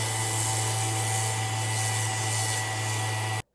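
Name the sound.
orbital sander sanding wood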